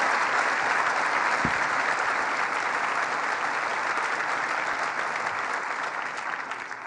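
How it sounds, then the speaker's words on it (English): A crowd applauds Dr. Candace Johnson at a governor's announcement of a Cuban-developed lung cancer clinical trial, a dense, steady roar of clapping hands filling the room for about seven seconds and tapering slightly at the end, with no talk over it. "Let's give her a round of applause."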